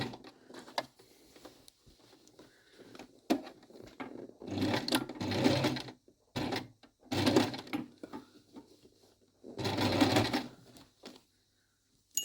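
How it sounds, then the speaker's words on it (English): A sewing machine stitches a seam through layers of coat fabric, running in three or four fast mechanical bursts separated by pauses, with small handling clicks in between. "we'll sew this little seam here"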